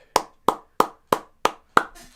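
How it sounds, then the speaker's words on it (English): Six evenly spaced, sharp hand claps, close and loud, with a short decay after each and no talking. "give Joe Cronin a round of applause"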